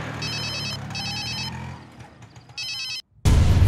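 A mobile phone rings in a dubbed action movie scene, a loud, repeated electronic ring in short bursts with a steady hum underneath, then a pause and a sudden loud rumble at the end.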